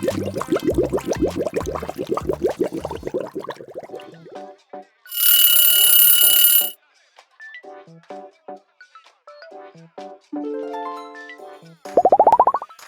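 A retro-style ringing alarm clock gives one loud, continuous burst lasting about a second and a half. Playful cartoon-like music and bouncy sound effects come before and after it.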